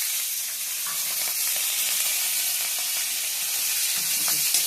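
Hot oil sizzles steadily with a bright, crackling hiss as nigella seeds and green chillies are added, close and unbroken, with no voices.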